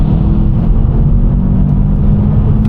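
An Audi Q2 downshifting and accelerating hard, heard from inside as a loud, low, throaty engine rumble with a steady droning roar throughout.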